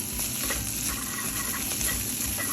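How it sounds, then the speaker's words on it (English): Chow mein noodles being stirred in a hot pan on high heat, a steady close sizzle with scraping and tossing textures running throughout, no talking. "Stir them up."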